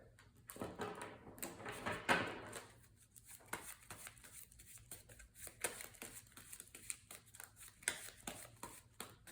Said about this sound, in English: And then let's shuffle up our player deck.